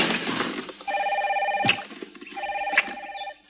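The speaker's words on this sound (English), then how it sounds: "Get a brand new car just 20 minutes ago with a telephone. It's already ringing." A telephone fitted in a brand-new car rings twice in repeated electronic trills, loud and close, with brief pauses between the bursts.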